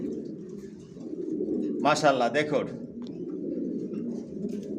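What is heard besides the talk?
racing pigeons cooing in a loft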